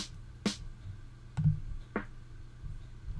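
A soloed snare drum in Logic Pro X with the EQ switched off hits sharply four times at uneven spacing, each dry crack ringing briefly over a low hum.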